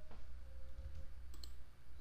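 A computer mouse double-clicks while editing in Illustrator CC 2018, giving a quiet pair of quick clicks against faint room hiss.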